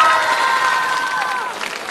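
Studio audience applause and crowd noise for a singing show's champion, a steady loud wash of clapping and cheering with sustained tonal sounds over it.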